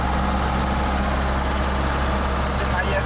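A 1982 Toyota Hiace diesel engine runs steadily at idle, with a constant low rumble and unchanging drone throughout.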